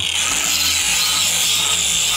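Power tool cutting steel during repair work on a T-25 tractor, a loud continuous abrasive whine, close by and unbroken for the whole stretch.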